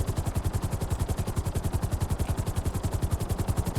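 A helicopter in GTA Online thumps with fast, steady rotor beats, loud and close, a regular chopping pulse running unbroken throughout without talk.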